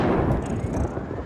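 Grenades detonate in the Syndicate co-op video game, a dense burst of low rumbling explosions and crackle filling a short, loud stretch of combat.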